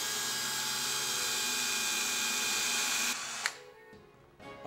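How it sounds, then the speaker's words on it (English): A high-pitched power drill boring pilot holes in wood whines steadily up close for about three seconds, then cuts off, leaving a brief clatter and quiet. "Then I can drill my pilot holes."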